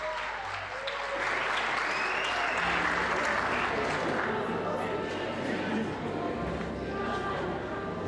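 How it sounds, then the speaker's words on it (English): Warm audience applause at the South African Women in Science Awards ceremony, a steady wash of clapping through the whole stretch, moderately loud in a large hall. "A warm round of applause, ladies and gentlemen, for Ms. Corinne Mouton from Stellenbosch University."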